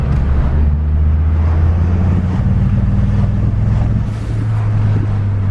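Turbocharged car engine pulling hard through fourth gear, a loud steady low drone with a rising harmonic tone and heavy wind buffeting throughout, no talking.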